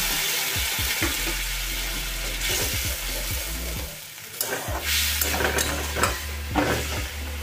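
Fish curry gravy in a pan sizzles and bubbles after half a cup of water goes in, a steady loud hiss with scattered crackles and spoon scrapes from stirring, no voices.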